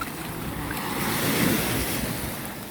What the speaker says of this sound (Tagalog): Malalakas na yung alon.